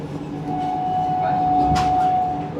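Vande Bharat Express train running near Salem, a close, loud rolling rumble with a steady tone and a brief burst of hiss, under occasional talk.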